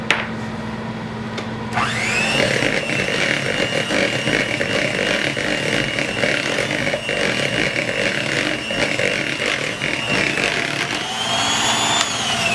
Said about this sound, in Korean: 여기까지만 핸드믹서 거품을 이용해서